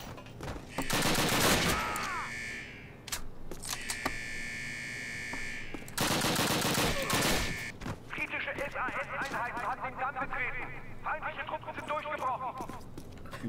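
Heavy gunfire bursts in a Call of Duty British campaign mission at the Eder dam, loud rapid volleys with pauses, mixed with alarm-like tones and electronic game effects while players talk over it.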